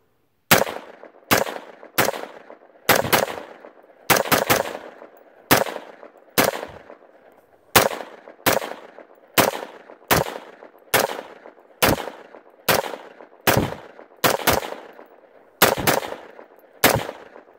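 A Black Rain Ordnance Spec 15 rifle with a competition compensator fired outdoors, about twenty sharp, loud single shots at a slow, fairly steady pace, each with a short ringing decay and no talk between.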